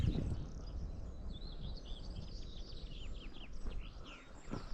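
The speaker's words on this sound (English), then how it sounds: "So here are the skylarks tweeting away." Skylarks sing in a hidden valley near Kidland Forest, a faint stream of high twittering phrases over low wind rumble, distant and continuous.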